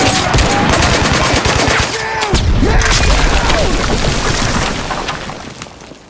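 Dense, loud gunfire fills the video game Mud and Blood, with rapid automatic bursts and booms overlapping continuously before slowly easing off at the end.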